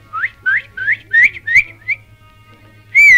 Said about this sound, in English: There she is, the nightingale, high up on that branch.